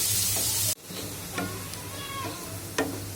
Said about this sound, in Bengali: মুরগির রেজালা করণের লেগা পেঁয়াজটা কিন্তু একদম ভাজা ভাজা করতে হবে,